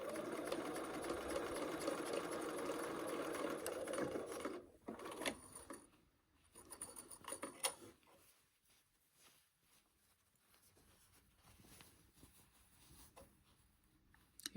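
A sewing machine runs steadily, stitching a seam on an A-line dress made from a New Look 6263 pattern, then stops, followed by quieter rustling and handling of fabric, with no voices.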